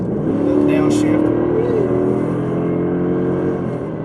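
A 2020 Ford Super Duty truck with a tuned 7.3L Godzilla V8 accelerating up a highway on-ramp, heard from inside the cab: a loud, close engine drone that rises in pitch with a shift partway through.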